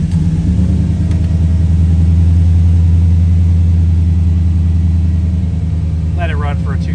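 A Chevrolet Impala SS V8 fires up after an oil service and settles into a loud, close, steady low-pitched idle rumble; a brief voice is heard near the end.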